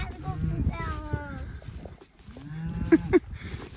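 Cows mooing on a grazing farm during a move between paddocks, with several long, drawn-out moos close by and a couple of sharper calls near the end, plus light voices and movement underneath.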